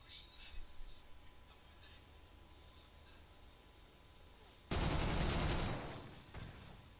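A Fw 190 A-5 fighter in War Thunder fires one loud, roaring burst of aircraft gunfire lasting about a second. It cuts through a quiet engine drone and faint chatter.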